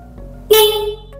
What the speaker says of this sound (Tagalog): So, magbusina tayo mga katropa. Ito, busina tayo.